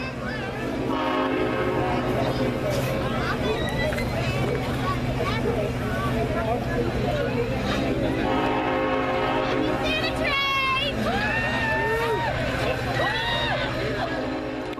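The Clinchfield Santa Train runs past with a loud, sustained horn blast in long chords, the engine rumbling steadily beneath as people talk nearby.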